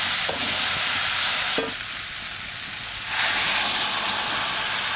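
Water poured into a pan of ash gourd cooking for a Bengali fish curry sets off a loud, sustained hiss of steam and sizzling that surges up again near the end, with a couple of utensil knocks, close and without talk.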